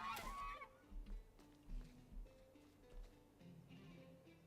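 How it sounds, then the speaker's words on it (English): Ducks quack in The Unfinished Swan video game, several distinct honking calls spaced irregularly over a faint, quiet game background. "I get to hear quacking"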